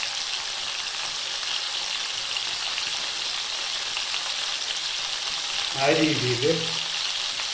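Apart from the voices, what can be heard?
chicken pieces frying in ghee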